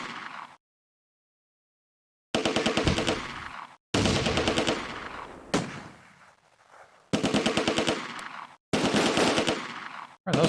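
Several bursts of rapid automatic gunfire aimed at a flamethrower soldier in the Close Combat war game, loud rattling volleys separated by short pauses and an opening silence, one burst trailing off into echo.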